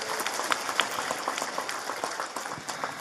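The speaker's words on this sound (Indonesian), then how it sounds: "Saya minta tepuk tangan dulu dong" An audience at an outdoor religious talk in a village claps in dense, steady applause for about three seconds, many hands blending into a continuous crackle at moderate distance, with no speech over it.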